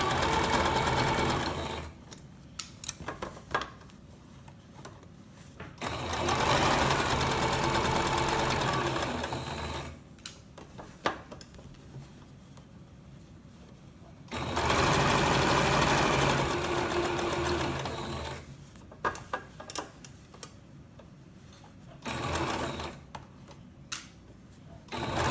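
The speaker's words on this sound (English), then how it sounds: "You can sew this any way you like to sew bias tape." A sewing machine stitching bias tape onto reversible shorts, running in three loud bursts of rapid stitching separated by quiet pauses filled with small handling clicks.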